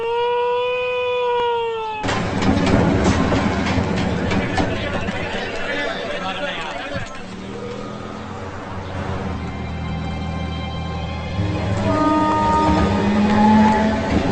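A train pulls into a station during a scene from the Rajinikanth film Sivaji, its steady, loud rumble filling the whole stretch under busy crowd chatter and voices, with a brief musical tone at the start.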